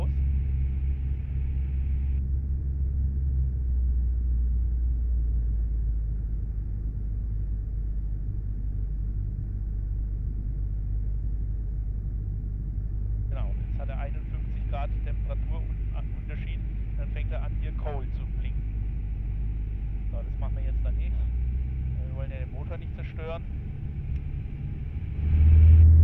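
Robin DR400 light aircraft engine throttled back with mixture set full rich, a steady low droning rumble filling the cabin throughout, with intermittent crackly radio or intercom chatter partway through and a brief louder bump at the end.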